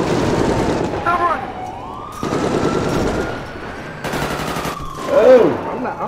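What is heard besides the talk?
police siren in a video game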